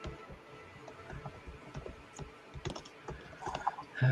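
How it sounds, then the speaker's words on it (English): Fast typing on a computer keyboard, a quiet irregular patter of key clicks with a few louder taps toward the end, no voices. "only so fast I can type"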